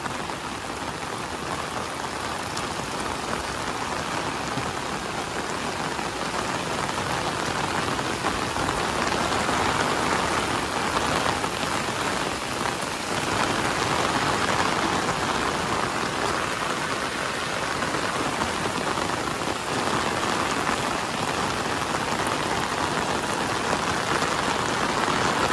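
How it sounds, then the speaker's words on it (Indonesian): Heavy rain pouring over a mountain village in the afternoon, a dense continuous hiss and patter on surfaces, steady and enveloping for the whole stretch with no voices. "Hujan-hujan jam segini ya, jam 3 sore ini"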